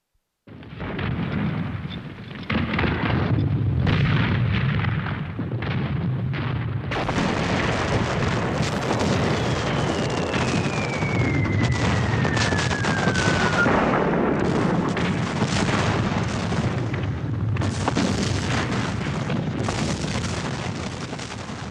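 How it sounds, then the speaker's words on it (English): Civil War artillery bombardment of Vicksburg by Union land guns and river gunboats, recreated as a loud, continuous rumble of booming explosions with a whistling shell streaking across the barrage. "U.S. Grant's 200 Union guns had pounded Vicksburg from land, while Admiral David Porter's gunboats battered it from the river"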